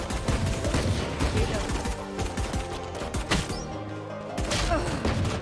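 Rapid gunfire in the shooter game Neon.exe, dense bursts of shots with thuds and impacts, loud and near, blended with game music and an occasional voice.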